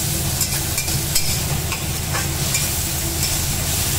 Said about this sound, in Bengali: তো এইবার মা ভালো করে ভেজে নিচ্ছে